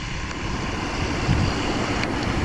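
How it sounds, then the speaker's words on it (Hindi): Heavy rain in Karachi, heard from a motorcycle riding from Clifton to Defence: a dense, steady roar of rainfall mixed with rushing wind buffeting the microphone, loud and continuous throughout. "बहुत तेज़ बारिश हो रही है"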